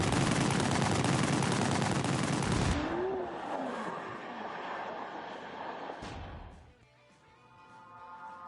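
A dense burst of rapid gunfire rattles loudly in a driving video game, then cuts off into a quieter engine rumble with scattered thumps and a sharp crack near the end.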